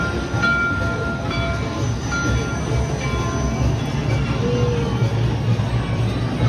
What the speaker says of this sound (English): Here comes our choo-choo.